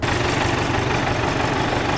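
A tractor engine idles up close, a loud, steady low rumble with a fast, even pulse and no voices over it.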